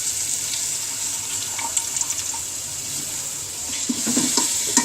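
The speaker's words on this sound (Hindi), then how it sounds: "अब इसके अंदर हम इमली का पानी डालेंगे" Tamarind water pours into a hot cooking pan of spiced gravy, giving a steady watery hiss with light sizzling and stirring sounds, close and continuous without talk.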